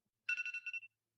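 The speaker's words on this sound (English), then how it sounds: "my phone's going off." A mobile phone ringtone chirps alone in a quiet room, a short bright warbling burst of about half a second that stops abruptly.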